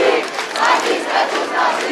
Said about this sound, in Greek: Οι συγκεντρωμένοι στην πόλη ξεσπούν σε χειροκροτήματα